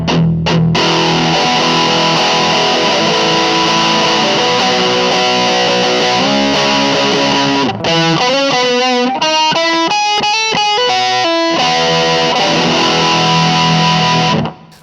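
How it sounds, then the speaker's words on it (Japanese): An electric guitar runs through a metal-style distortion pedal, heavily saturated and loud, playing sustained chords and then a quick choppy riff before ringing out, with no one speaking. "このメタルっていう名前がついてるやつとかは、結構ですね、さらに激しい歪みというか"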